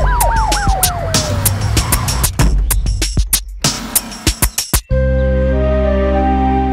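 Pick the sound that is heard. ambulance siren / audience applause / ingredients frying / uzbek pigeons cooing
ambulance siren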